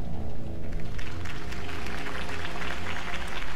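Crowd applause after a campaign speech in the Batman Telltale video game, a dense wash of clapping that holds steady for a few seconds without speech.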